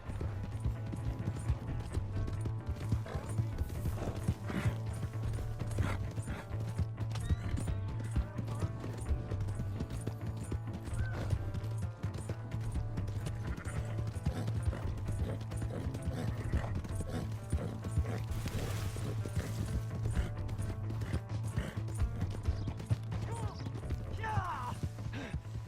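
Horse hooves clatter in a quick, steady rhythm in the Red Dead Redemption 2 video game, moderately loud under a continuous low rumble, with faint background voices.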